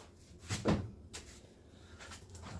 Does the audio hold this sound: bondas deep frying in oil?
no